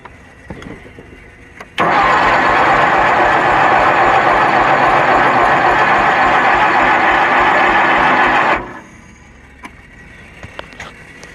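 Kohler Magnum 20 engine on a Wizard garden tractor cranking, a loud, steady mechanical churn that starts abruptly, runs unbroken for about seven seconds, then cuts off to quiet.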